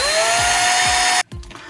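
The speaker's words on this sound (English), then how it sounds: "let's drill those all the way through" A power drill boring holes through a part, a loud steady high whine running for about a second before cutting off abruptly, followed by a few softer clunks.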